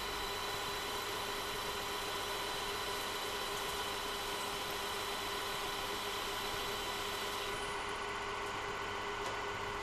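A parallel lathe turning a workpiece between centres, running with a steady mechanical hum and faint whine, constant and unchanging.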